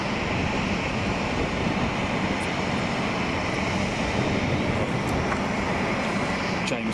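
China Airlines Boeing 747 passing overhead at Boeing Field, a loud continuous broadband jet roar mixed with wind buffeting on the microphone, steady throughout.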